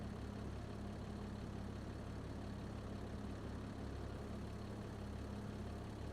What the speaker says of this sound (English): Largest tractor in the game.